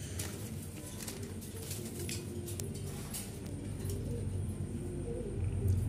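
Male and female pigeons, black magpie-type birds, cooing softly in steady low murmurs over a constant background hum, with no voices.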